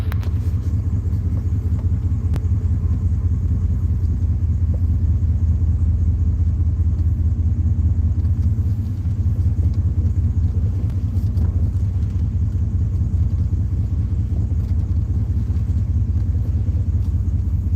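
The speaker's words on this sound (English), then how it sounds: "I think all 318s with some kind of exhaust sound good." The 318 V8 of a 2001 Dodge Ram rumbles loudly through its exhaust, a deep, steady, unbroken drone held close for the whole stretch with no talking.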